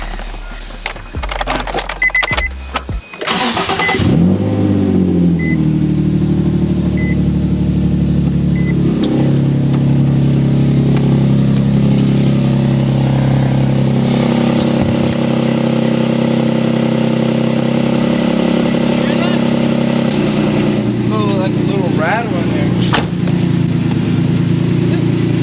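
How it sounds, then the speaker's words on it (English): A Nissan 350Z engine with a newly installed Manzo Y-pipe and test pipes cranks and catches after a few seconds, then runs with a deep, steady rumble and occasional revs, close by and loud throughout. "After months of exhaust leak, I can finally hear my car sound better."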